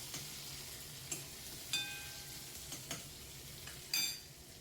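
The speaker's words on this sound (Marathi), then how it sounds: "कांदा, मिरची, टोमॅटो आणि असं सगळं परतवून घेतल्यानंतर छान परतवू दिलं त्याला" Onion, chili and tomato, with a few cloves and peppercorns, sauté quietly in a pan: a soft, steady sizzle broken by a few light clinks of a stirring spoon.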